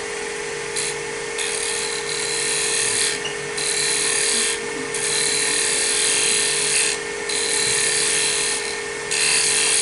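A scraper tool cuts a squarish wooden bowl spinning on a lathe, giving a steady close rasping scrape with a constant motor hum and repeated brighter bursts as the edge bites.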